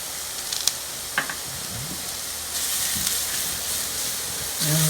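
Turnip hash browns with onions sizzle in a pan, a steady frying hiss that swells louder partway through, with a few faint clinks nearby.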